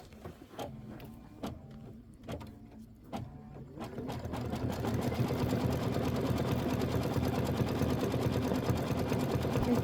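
A Kimberbell embroidery machine stitching out a watermelon quilt block: a few separate needle clunks at first, then a fast, steady whirring stitch rhythm that runs continuously, close and moderately loud.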